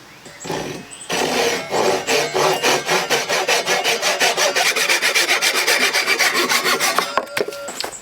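A hand saw cuts through white oak stock for square timber-framing pegs, producing loud, close, rhythmic rasping strokes, about twenty in quick succession, before the cut ends with a few light knocks.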